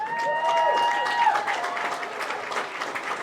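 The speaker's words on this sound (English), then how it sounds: "Give a round of applause for all these young men and their great coaches behind them." Crowd applause and cheering at a Waterloo High School football game, continuous clapping from the stands with whistles and shouts early on, steady and moderately loud throughout.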